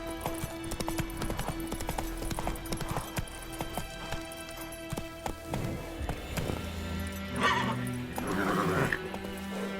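Hooves of Roach, the horse in The Witcher 3: Wild Hunt, clip-clop in a steady rapid trot over layered game ambience and music, continuous and fairly loud throughout.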